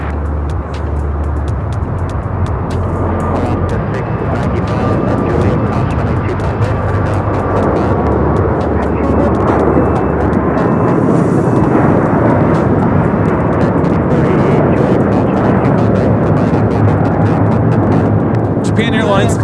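Japan Airlines Airbus A350-1000 on its takeoff roll at LAX, a loud broad engine roar that swells and thunders steadily throughout, with people talking over it.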